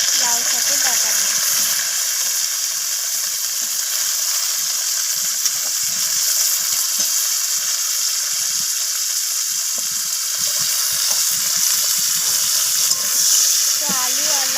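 Potatoes and bottle gourd green stalks fry in a pan with tempering spices, a steady loud sizzle running throughout while someone speaks over it.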